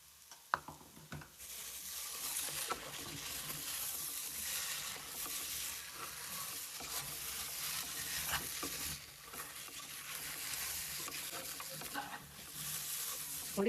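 Lamb trotters fry in a pan with a steady, bright sizzle, while a utensil scrapes and stirs through them at intervals. No one speaks.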